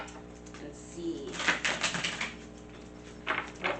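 Tarot cards being shuffled by hand, heard as short papery riffling bursts: a longer run of quick flutters in the middle and a brief second burst near the end, close and fairly soft.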